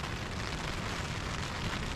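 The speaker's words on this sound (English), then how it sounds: "As you can hear it, probably the rain is just starting now" Rain begins to fall on a tent during a storm, a dense, steady patter and hiss that fills the whole moment with no pauses or voices.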